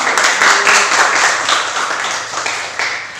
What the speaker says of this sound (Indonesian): berikan tepuk tangan juga